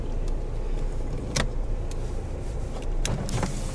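A car idles and rolls as it is parked, with a steady engine rumble and a few sharp ticks and clicks from the cabin.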